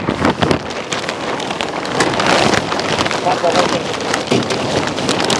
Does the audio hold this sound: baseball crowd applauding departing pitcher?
no